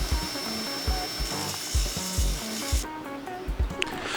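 Steady abrasive whirring of a disc sander against a wooden handle, with rhythmic rasping strokes pulsing through a continuous motor hum, close by and fairly loud.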